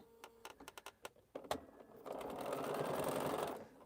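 A Bernina sewing machine stitching strings for a quilt: a few short separate needle taps, then a steady continuous run of rapid stitching that holds to the end, fairly close and alone.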